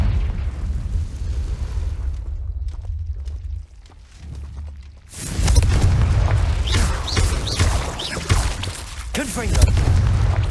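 A Confringo blasting spell detonates in Hogwarts Legacy. The deep explosive boom rolls over rumbling game noise and is followed by a louder stretch of crackling bursts, while a voice talks over it.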